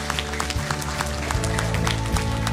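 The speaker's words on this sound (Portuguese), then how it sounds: "Vamos dar um aplauso a Cristo pela vida do nosso apóstolo." A church congregation in Maromeu, Mozambique, claps for their apostle. The applause is a busy, steady patter over a sustained low musical tone, getting slightly fuller toward the end.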